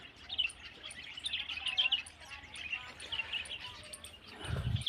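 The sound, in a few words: sparrows and mynas chirping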